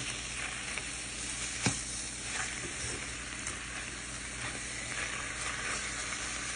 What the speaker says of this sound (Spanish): Y aquí mientras se dora un poco el pollo